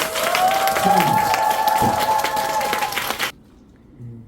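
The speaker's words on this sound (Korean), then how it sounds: "박수" An audience applauds at a basketball player's fan meeting, with dense clapping for about three seconds before it cuts off to near quiet and a faint voice.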